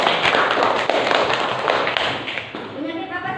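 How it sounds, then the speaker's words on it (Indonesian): Children applauding in a classroom, a dense patter of many hand claps that fades toward the end, with voices talking over the last moments. "Ya, tepuk tangan."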